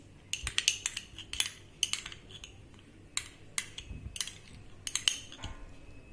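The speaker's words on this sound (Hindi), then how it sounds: "अच्छे से मिक्स कर लेंगे।" A spoon clinks and scrapes against a bowl in quick repeated bursts as Schezwan sauce is stirred into tomato ketchup. The sound is close and clear, with no talking.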